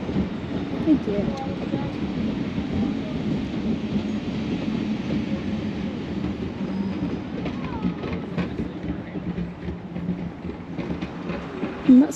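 A heritage train rolls along the rails at the Butterley railway, a continuous low rumble and clatter of carriages with faint voices in the background.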